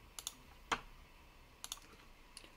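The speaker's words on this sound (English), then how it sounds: "Fat finger typing on my part." Sparse, faint clicks of a computer keyboard being typed on, a few isolated keystrokes and small clusters spread across a quiet background.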